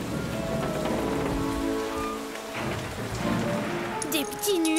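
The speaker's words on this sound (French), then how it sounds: "Une tempête, oui." Heavy rain drums steadily on a surface during a storm, a continuous close wash of noise with faint voice-like tones mixed in and brief higher sparkles near the end.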